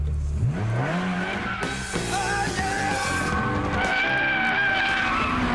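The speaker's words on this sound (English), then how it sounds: "A Ferrari! Ferrari for the day, and it's just got to go on the track." A Ferrari F355 sports car on a race track, its engine revving hard and climbing through gears with loud tire squeal, close and continuous.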